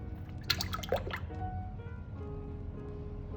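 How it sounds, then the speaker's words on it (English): Heavy whipping cream poured into a mixing bowl, giving soft close liquid drips and a gentle filling trickle with a few splashy squelches at the start, with no talk. "pour in the 1 pint of heavy whipping cream"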